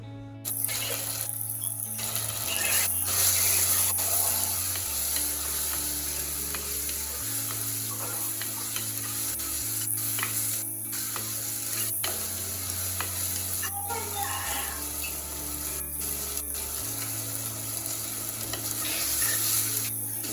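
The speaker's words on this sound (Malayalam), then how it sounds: "തക്കാളിയും അതേപോലെ തന്നെ പച്ചമുളക് ഇത് രണ്ടും ചേർത്തിട്ട് സ്മാഷ് ആവുന്ന രീതിയിലൊന്ന് വഴച്ചെടുക്കണം" Tomatoes and green chillies sautéing in a pan for a fish curry, mashed down as they cook: a continuous loud sizzle with occasional stirring scrapes, under steady background music and without speech.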